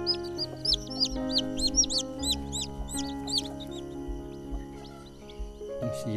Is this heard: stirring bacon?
no